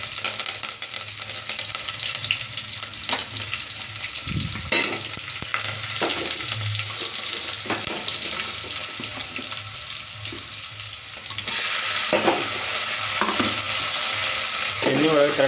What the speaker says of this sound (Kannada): ಎಣ್ಣೆ ಒಳಗೆ ಕರೆಕ್ಟಾಗಿ ಟಮಾಟೆ